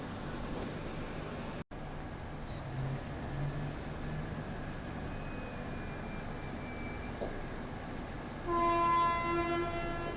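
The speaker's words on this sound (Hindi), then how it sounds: "डिपार्चर लेते हुए अपनी सूबेदारगंज एक्सप्रेस।" The Subedarganj Express leaves the station, heading toward Dehradun in heavy rain. A steady rumble of the moving train carries on throughout, and a sustained horn or whistle blares near the end.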